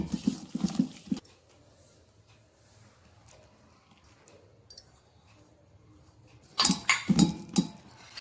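Fish mixed with oil and spices in a bowl, with bursts of wet clinking and scraping against the dish at the start and end, and quiet handling in between.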